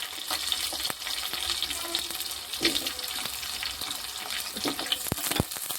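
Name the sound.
large onion pieces frying and stirred in a pan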